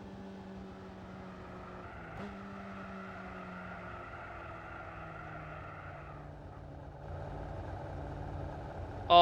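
Simulated Subaru Impreza engine in Gran Turismo 4, a steady droning engine note holding pitch with a brief bump near two seconds, shifting tone around six seconds, then a sudden loud burst at the very end.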